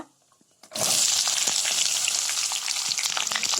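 Shallots and large onions hit hot oil with browning chana dal for kara chutney, bursting into a loud, steady sizzle after a quiet start, with faint stirring clicks throughout.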